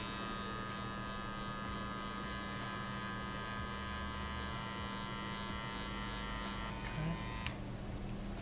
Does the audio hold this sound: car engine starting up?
no